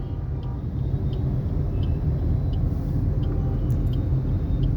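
A car from a Jaipur driving school moves slowly along a road with a learner at the wheel, a steady low engine and road rumble from inside the cabin, with faint ticking of the indicator.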